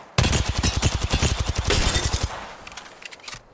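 A rapid burst of automatic gunfire from Apex Legends, loud close-up shots hammering in quick rhythm for about two seconds before trailing off into scattered distant pops.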